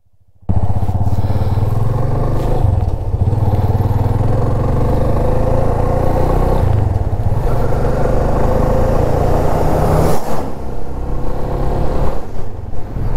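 A motorcycle ridden on a road near Bishnupur, close to Joypur forest in Bankura, with a loud, steady engine drone and wind rush that carries on without a break and no talk over it.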